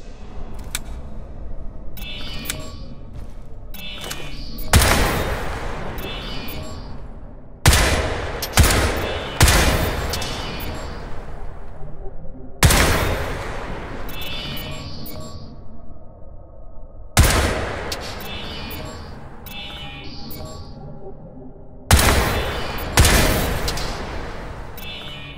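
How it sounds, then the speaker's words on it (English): Rapid automatic gunfire from Crysis 3, loud and close, in several sharp bursts separated by brief pauses over about twenty-five seconds. "Even with fast twitch recoil compensation, rapid fire is inaccurate."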